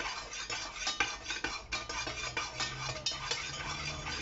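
A utensil stirs dye into melted candle wax in a pot. Repeated soft scrapes and light metallic taps come at an uneven rhythm, close and moderately quiet, with no voice.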